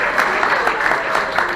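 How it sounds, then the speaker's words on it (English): A crowd at a morning breakfast gathering gives a short burst of close, lively clapping, with some voices mixed in. "Big round of applause for the Moose."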